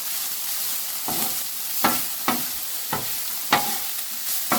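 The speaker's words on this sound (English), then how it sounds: "Keep mixing it up, stirring it around." Hibachi food sizzles steadily in a hot pan while a utensil scrapes and stirs it in repeated strokes, close and loud, with no voices.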